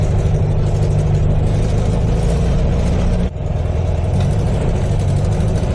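The engine of a modified Volkswagen Beetle runs loud and close with a rough, steady drone. The sound dips briefly partway through, then resumes at the same level.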